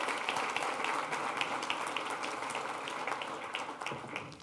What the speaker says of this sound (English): So if you would please give them a round of applause for what they do for us.